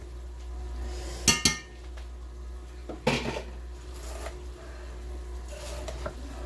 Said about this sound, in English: Just gonna mix this up.